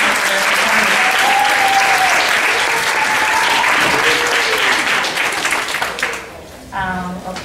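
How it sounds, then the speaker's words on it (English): A church audience gives a dancer sustained applause, a dense, loud wash of clapping with whoops and voices that fades near the end as someone begins speaking. "So I just wanted to make sure she had another round of applause."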